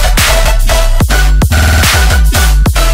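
Layered future riddim drop with a chord sample tracking the melody line, dense and loud, with repeated pitch-swooping hits and sustained tonal layers across the whole stretch; no talking.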